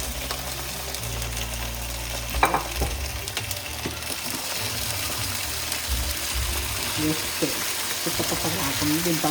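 Prawns cooking in gravy in a pan, giving a continuous frying sizzle with bubbling, scraping and stirring sounds, plus a sharp clatter early on and people talking over it.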